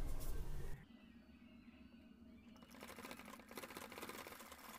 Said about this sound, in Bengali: এখানে আমাদের সেলাই করে নিতে হবে